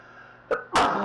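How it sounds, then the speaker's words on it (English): A single sharp sneeze close by, with a quick intake of breath just before the loud burst. "I hate to sneeze"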